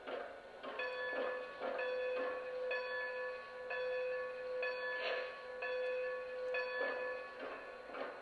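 Bell on a Lionel Strasburg 90 model train ringing in a steady, regular rhythm, with about eight evenly spaced clangs that are clear and fairly close, and no voices.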